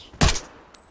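A single loud gunshot in the Arena Breakout shooter game, a sharp crack with a short tail, followed by a faint fainter click.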